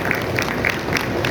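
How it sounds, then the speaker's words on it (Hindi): An audience applauds with steady clapping at a political party meeting, a short burst of crowd noise. "जोरदार तालियां बजाएं बिंदल साहब के लिए।"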